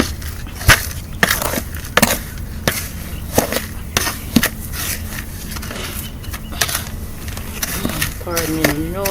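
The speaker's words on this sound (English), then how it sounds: "Mix the perlite in with the soil." Potting soil and perlite mixed by hand in a container, heard as close, gritty crunching and rustling with sharp scrapes and bursts, under faint background sounds and a brief voice near the end.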